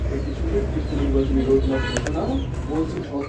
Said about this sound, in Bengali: এটা শার্টিং কবুতরের একটা জোড়া।